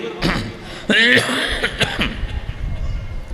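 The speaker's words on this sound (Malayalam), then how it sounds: "ചെറിയൊരു ചുമ" A single short, sharp cough stands out near the start, followed by a brief throat-clearing sound and quiet murmuring.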